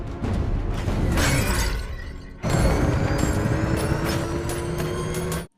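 Glass shattering in a sharp burst, a rearview mirror breaking, followed by a second loud crash of breaking glass and scattered debris, fairly close and continuous for several seconds.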